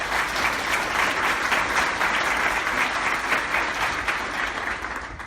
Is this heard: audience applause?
yes